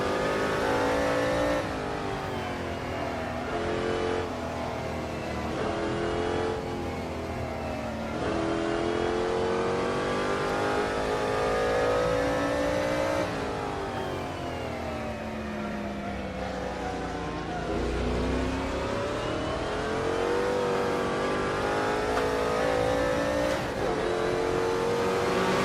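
1960s racing car engines, including Ferraris and a GT40, in a racing game set at Kyalami: loud continuous high-revving engine drone with rising and falling pitch through gear changes, several cars overlapping, no talk.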